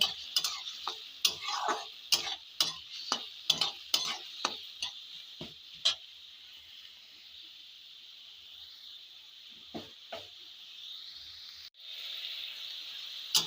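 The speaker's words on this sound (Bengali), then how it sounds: "এবার একটু লবণ দিয়ে দেবো দিয়ে ফের একবার নেড়ে দেবো" Cauliflower curry being stirred in a pan after salt goes in, a quick run of sharp spatula clacks over a soft sizzle, then the strokes stop and a quieter simmering hiss carries on with a couple of later taps.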